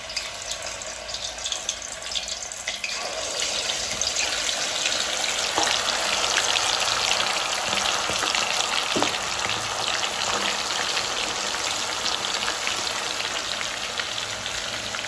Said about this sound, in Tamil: இப்போ பார்த்தீங்கன்னா எண்ணெயில் இந்த அளவுக்கு எண்ணெய் விட்டுட்டு நாங்கள் ரசியை வந்து ஒன்றா பொரிச்சு எடுப்போம்